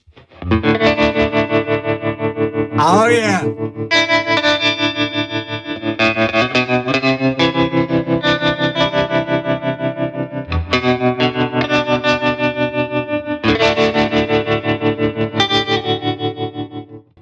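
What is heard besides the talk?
electric guitar through effects pedal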